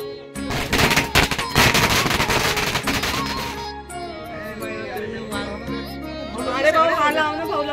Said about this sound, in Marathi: त्या फटाक्याला घाबरून सगळे पळाले का?